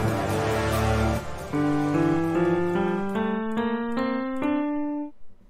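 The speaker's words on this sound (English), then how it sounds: "For the first time, the music changes to D minor, which sounds like this" Orchestral music from the Hytale trailer shifting into D minor, dense sustained chords giving way to a rising sequence of clear tonal notes stepping upward, moderately loud with no voices.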